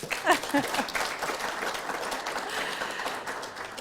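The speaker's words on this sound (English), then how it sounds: "Give yourself some applause for that one" Audience at a business talk with a chief executive applauds themselves, a brief cheer or voice at the start, then steady, moderately loud clapping throughout.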